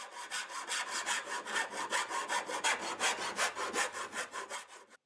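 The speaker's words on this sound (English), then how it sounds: "A good technique for filing is to stand where the blade points and file back and forth in front of you, just like this." A hand file is drawn back and forth along the edge of a metal broadsword blade in steady rhythmic rasping strokes, about four per second, close and clear with no talking.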